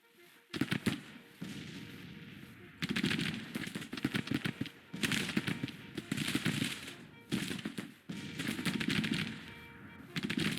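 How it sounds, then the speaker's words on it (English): Rapid bursts of gunfire crackle in repeated volleys, rattling like massed rifles, with brief lulls between bursts and no talk, from an American Civil War skirmish in the strategy game Grand Tactician: The Civil War. "Not a lot of gunfire coming from here."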